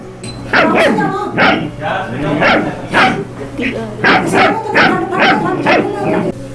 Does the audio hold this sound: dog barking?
yes